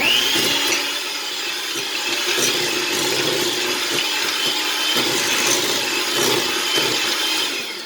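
Softened cream cheese, an 8-ounce block, is beaten with a mixer for a pound cake batter, making a steady, close whirring and scraping drone that runs without a break and with no voices.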